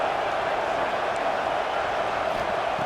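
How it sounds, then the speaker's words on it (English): Cheering football stadium crowd at a Duke versus Ohio State college game, a dense, loud, continuous roar of massed voices without breaks or distinct peaks. "It's early, but this crowd is fired up. Listen to this noise here."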